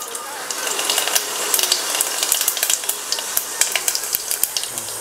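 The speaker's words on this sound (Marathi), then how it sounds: "तेल तापले, पहिला आपण जिरं टाकून घेऊया" Cumin seeds frying in hot oil in a pressure cooker give a close, steady crackling sizzle with dense little pops throughout, with no talk.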